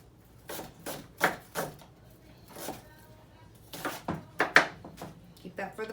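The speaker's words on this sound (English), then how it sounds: "when you chop it, it's already pretty much sliced and diced" A kitchen knife chops a pre-sliced onion on a cutting board in irregular bursts of sharp, close taps, with someone talking in between.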